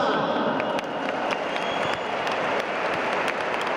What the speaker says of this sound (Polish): Pani Anna Marenę, dodajmy jej Jeszcze raz brawa